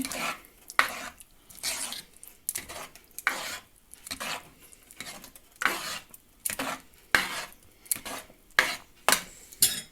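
Zucchini adjika with 9% vinegar just added is stirred in a pot, a spoon scraping and clinking against the sides in a steady rhythm of strokes, loud and close with no talking.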